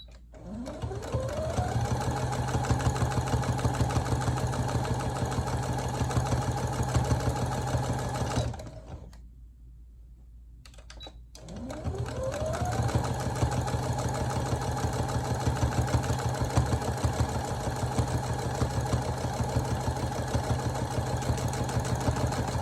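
A sewing machine stitches a burrito pillowcase with a steady, close mechanical whir. It stops for about two seconds midway, then starts again and runs evenly to the end.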